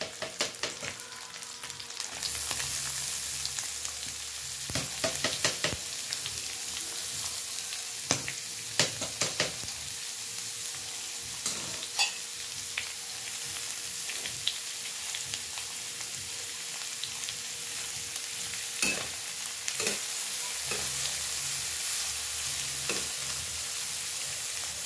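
Bamboo shoots (labong) frying in a pan for ginataang labong, a steady close sizzle with scattered clicks and scrapes of stirring over about twenty-five seconds, no talking.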